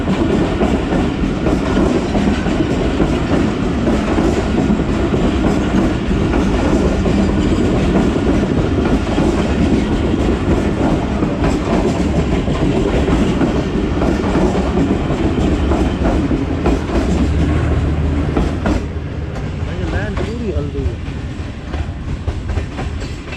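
The Jaffar Express rolls past slowly and gently, its railcars giving a long, steady, loud rumble with rhythmic clickety-clack of wheels on the rail joints, easing slightly toward the end.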